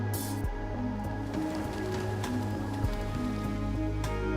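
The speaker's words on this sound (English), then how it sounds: "now that it's raining." Rain falls steadily in the video game Endzone: A World Apart, a dense continuous patter over low tonal game ambience and a faint musical hum, with soft drop-like ticks scattered throughout and no voices.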